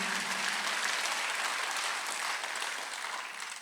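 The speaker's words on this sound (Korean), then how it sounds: "박수 한번 주세요." A congregation at a Korean church Sunday worship service claps in sustained, dense applause that stays strong and then begins to taper off near the end, with no one speaking.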